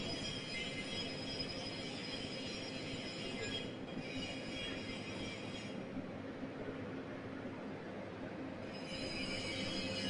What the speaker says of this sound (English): This is a compressor,